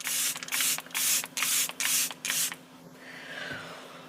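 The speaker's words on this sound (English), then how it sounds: "as I try to talk and spray my face" Charlotte Tilbury makeup setting spray mists onto a face in six quick hissing bursts, close and loud with short gaps between them, followed by a quiet rustle.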